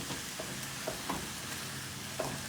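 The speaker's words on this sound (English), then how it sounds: "I'm gonna pour the egg in the middle, and we wanna vigorously incorporate it into the mix" Egg is stirred vigorously into a sizzling pan of egg roll in a bowl mix, a steady quiet frying hiss with soft scraping taps from the utensil.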